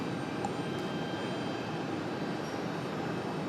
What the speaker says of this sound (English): That one leaving a 737-900ER, 11 years of age, delivered back in July of 2014.